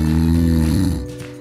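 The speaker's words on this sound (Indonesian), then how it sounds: "Mendengkur alias ngorok pastinya mengganggu ya sahabat" Snoring from a sleeping person, a single rough, low droning breath lasting just over a second before fading out, close and fairly loud with no voices.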